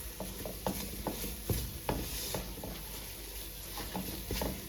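Milk barfi mixture stirred with a spoon in a pan, a series of soft irregular scrapes and taps over a faint low sizzle.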